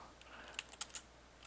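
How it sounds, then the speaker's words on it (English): Fast, light clicking of keys on a computer keyboard, a quick irregular burst of taps heard close but quiet over a steady hum, no voices. "I'm not finished typing it in"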